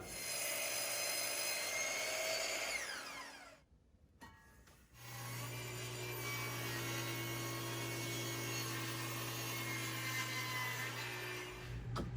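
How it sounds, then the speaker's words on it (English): Wood for floating shelves is ripped into 1-inch strips on a power saw, which whines and buzzes steadily through the cut, drops out briefly, then spins up again and runs on loud and close. "This piece is going to get cut into 1-inch strips for the main component, so I'm going to cut them all to the same size."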